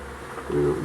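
A honeybee swarm hums inside a box. The low, steady buzzing swells louder in the second half, and a voice can be heard speaking over it.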